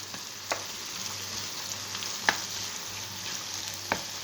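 Steady sizzling of small diced potatoes frying in a pan, with a few sharp clicks of utensils stirring at intervals.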